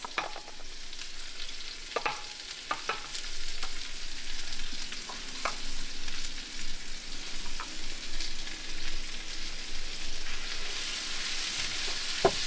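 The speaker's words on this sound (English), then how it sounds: "saute this until the onion turns brown" Chopped onions, garlic, ginger and shallots sauté in hot oil for a Kerala-style beef curry, giving a steady close sizzle with scattered clicks of a spoon stirring the pan and no voices.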